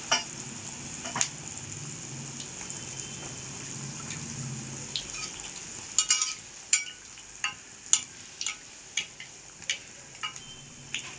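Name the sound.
potato cheese balls frying in oil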